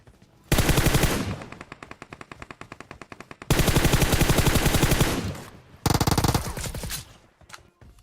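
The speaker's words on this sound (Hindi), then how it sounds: "और देखो पीछे भी गोलियां चल रही होती है" Rapid automatic gunfire from the PUBG Mobile video game rattles out in three long, loud bursts, separated by brief pauses and ending with a few scattered shots.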